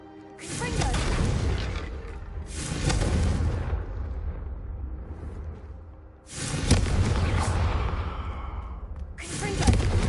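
Confringo blasting spells in a Harry Potter game go off as several loud bursts, each a sharp explosive onset trailing into rumbling debris, separated by brief quieter gaps.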